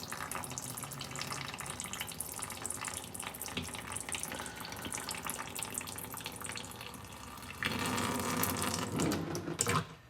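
Remaining fluids drain from a 1956 Ford Thunderbird in a steady splashing, trickling stream that grows louder and fuller near the end. The sound is close and continuous, with no talking.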